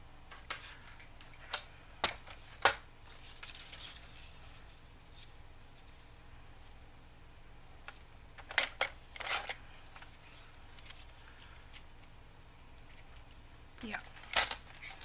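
Scissors snipping paper for a handmade tri-fold journal, a few sharp isolated cuts and rustles spread over a quiet room, close to the listener.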